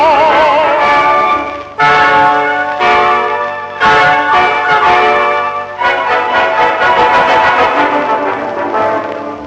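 Neapolitan church bells ring loudly and continuously, overlapping peals with rich ringing tones and repeated strikes, no voices.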